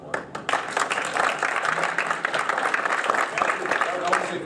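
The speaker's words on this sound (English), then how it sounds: "We give a good round of applause." Audience applause fills a room at a conservative political gathering, steady dense clapping sustained throughout without pause, fairly close and loud.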